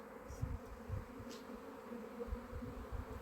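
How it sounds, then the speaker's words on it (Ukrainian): Steady low buzzing hum of many honeybees flying around nearby, with a continuous drone and occasional louder passes close to the microphone. "Ну в основному все обліт молодої бджоли на даний час"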